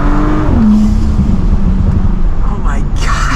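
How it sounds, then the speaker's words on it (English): A tuned Audi S5 Sportback with a 6-cylinder engine revs loudly toward redline, its exhaust droning steadily before a few pops and crackles near the end, recorded from inside the car. "when you get really close to the red line, it will pop like that"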